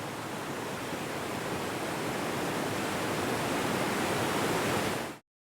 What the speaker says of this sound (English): Adding waterfall sound effect immediately brings to it life.